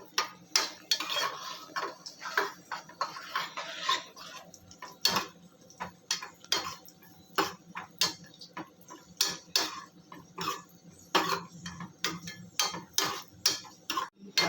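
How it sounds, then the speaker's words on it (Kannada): Raisins and cashews roasting in a pan over a low flame, with a steady run of sharp metallic scrapes and clinks as a utensil stirs them against the pan, close up and with no talking. "ದ್ರಾಕ್ಷಿ ಗೋಡಂಬಿ ಎರಡು ಹಾಕ್ಕೊಂಡು ಲೋ ಫ್ಲೇಮಲ್ಲಿ ಹುರ್ಕೋಬೇಕು"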